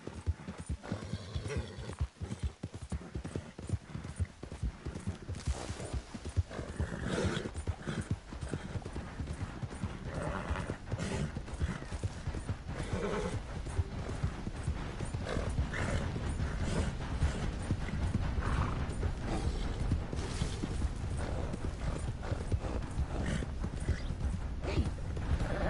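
Horse hooves clip-clop in Red Dead Redemption 2, a steady rhythmic run of close hoofbeats that continues throughout, with occasional creaks and faint mechanical noises around it.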